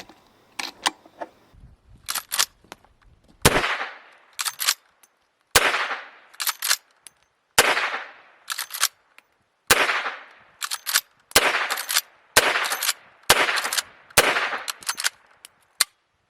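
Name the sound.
loading .357 Magnum rounds through the loading gate of a Smith & Wesson 1854 lever-action rifle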